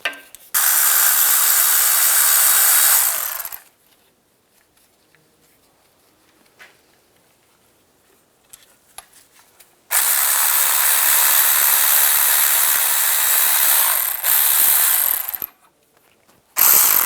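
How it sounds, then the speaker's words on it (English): On a 2005–2007 Ford Five Hundred, a ratcheting tool fitted with a 10mm socket spins out the bracket bolts in two loud, sustained bursts. A quiet stretch with faint handling clicks separates them. "Use a 10mm socket."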